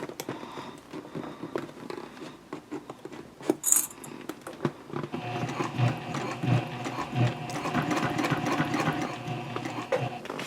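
A sewing machine stitches a messenger handbag, working through the tougher flap side at a 3.5 stitch length. It runs steadily and fairly close, with a few light mechanical clicks before it.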